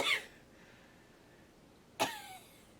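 Two short, harsh coughs, one at the start and another about two seconds later, with quiet in between.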